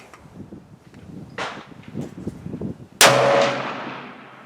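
A Ruger American Ranch rifle fires a Norma 124gr 7.62x39 round at a range: faint handling clicks and rustles, then one sudden loud, close report with a ringing, decaying tail.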